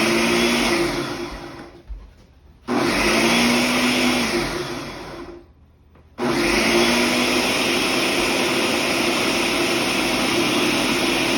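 Blender whirring a sazon seasoning mix in loud, close bursts: a long run that winds down, a short restart and stop, then a sustained roar, its motor pitch dipping and rising.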